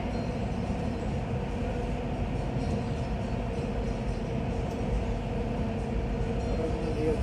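Metro train running toward Collblanc, a steady low rumble and rolling hum from inside the carriage that holds even throughout with faint rattles and no speech.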